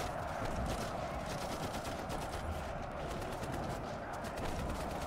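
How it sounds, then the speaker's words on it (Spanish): Dense, continuous rapid gunfire in the video game Piofiore: Fated Memories fills the whole stretch, a loud rattling barrage of automatic shots with no pauses. "los Visconti empezaron a abrir fuego"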